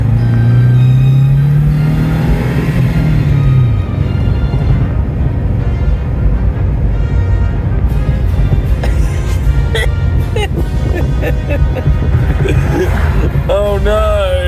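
Subaru Brat engine held at full throttle, a loud, close, continuous roar that wavers and surges as the throttle shifts, with voices talking over it.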